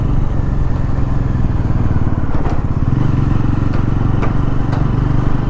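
A Bajaj Pulsar NS400Z motorcycle's 400 cc engine runs close and loud, a steady throbbing idle with some mechanical clatter throughout.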